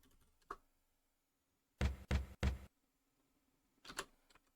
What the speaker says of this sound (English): We could knock.